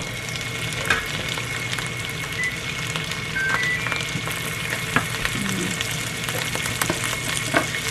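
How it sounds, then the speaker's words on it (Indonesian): Risol, Indonesian spring rolls, fry in hot oil with a steady loud sizzle and crackle throughout, broken by occasional pops and the scrape of stirring. "Terus aku mau goreng risol"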